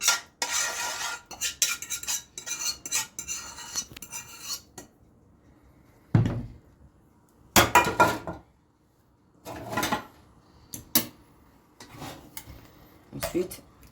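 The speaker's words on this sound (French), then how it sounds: "je reprends ma sauce et je verse tout à l'intérieur." Sauce poured over cooked minced meat for lasagna and stirred in a pan, heard as repeated scraping and clinking of a utensil against the cookware in uneven bursts, close up, with gaps of near silence and brief speech.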